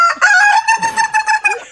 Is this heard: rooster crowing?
yes